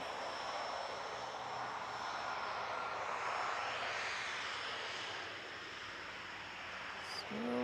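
A small light aircraft drones overhead near an aero club, a steady broadband engine hum that swells toward the middle and then fades slightly, alone and without talk.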